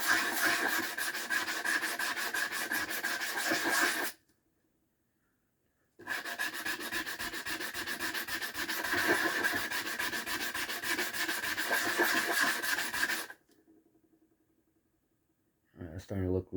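A blue calcite gemstone is polished by hand, its facets rubbed in quick back-and-forth strokes. Two long, close bursts of scratchy rubbing are split by a short pause, and a brief final burst starts near the end.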